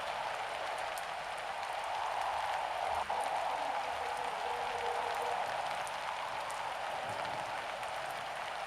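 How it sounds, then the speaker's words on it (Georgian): Steady, dense patter of rain falling inside the Roblox video game, a continuous hiss that holds at an even level for the whole stretch with no voices over it. "აი წვიმა ბავშვებო"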